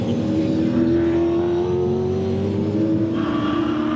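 2006 Supercars Championship touring cars racing at Ipswich, a loud, steady engine drone held at high revs as the cars push hard, with no talk heard.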